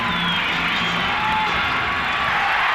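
A packed arena crowd at the 1990-91 Eastern Conference Finals game 4 between the Chicago Bulls and Detroit Pistons roars steadily before the tip-off, a loud, unbroken wash of cheering.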